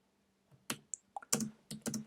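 Sharp keyboard key clicks in an irregular burst, a few isolated taps followed by faster typing, close and quiet.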